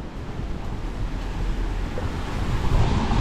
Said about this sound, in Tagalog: Medyo malakas pa rin yung hangin.